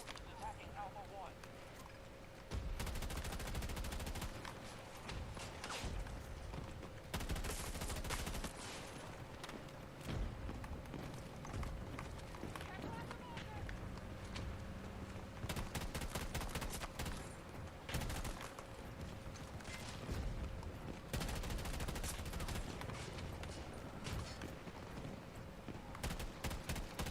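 Battlefield 6 gunfire cracks in repeated bursts of rapid shots throughout, loud and near, with short pauses between volleys over a constant game background hum.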